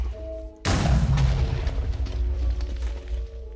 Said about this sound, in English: And I also added the flare gun, which uses flares as ammo.